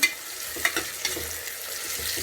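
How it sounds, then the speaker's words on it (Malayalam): Mutton curry masala with onions is stirred and sautéed in a pan, giving a soft, moderate sizzle with light, irregular stirring clicks and scrapes close by, no voices. "ഇതും കൂടി ചേർത്ത് നമ്മൾക്ക് നന്നായി ഒന്ന് ഇളക്കി കൊടുക്കാം"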